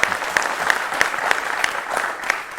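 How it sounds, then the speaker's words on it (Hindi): A TV debate studio audience claps steadily after being urged to applaud louder, with dense, even clapping and a few sharper individual claps standing out, close and moderately loud, with no talking. "अब थोड़ा जोर से ताली बजाइए।"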